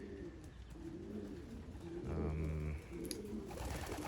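Young racing pigeons coo softly in a loft, low throaty rolling calls repeating under a background hum, with one fuller coo near the middle.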